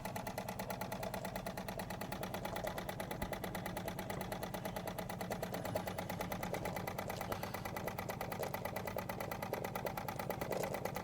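A Wilesco D20 toy steam engine chuffs along at very low pressure, under half a bar, with a steady, fast, even mechanical beat that stays quiet and smooth throughout, with no voices.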